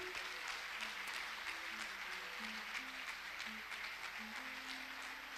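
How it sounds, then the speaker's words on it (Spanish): A church congregation gives steady applause to welcome newcomers, continuous crowd clapping with a few sharper claps, under soft instrumental notes and scattered voices. "Le damos un fuerte aplauso al Señor por estos hermanos que han llegado a la casa de Dios."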